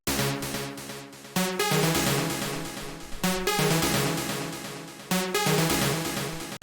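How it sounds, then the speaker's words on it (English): A bright, dense synth lead plays a repeating melodic phrase over full backing, loud and steady, restarting its pattern every couple of seconds. "After that we have the lead, which sounds like this."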